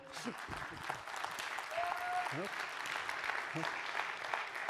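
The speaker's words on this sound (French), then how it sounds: "Merci, on l'applaudit s'il vous plaît." Audience applause at a French stage show, a steady wash of clapping that fills the room, with a brief tonal whistle and a few vocal bursts cutting through the middle.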